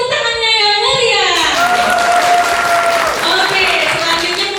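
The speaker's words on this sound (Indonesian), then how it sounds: "yang sebelah kanan, beri tepuk tangannya yang meriah" The right-hand section of an audience at an MC school event in Surabaya applauds loudly and continuously, with a sustained tone and a gliding pitch over the clapping, plus cheering voices.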